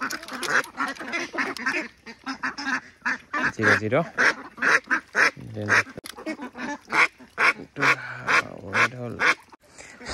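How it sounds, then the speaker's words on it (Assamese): Ducks quack repeatedly in loud, rapid bursts close by while being weighed, with honking calls mixed in throughout. "আৰু এইফালে এটা হাঁহ ধৰিলোঁ"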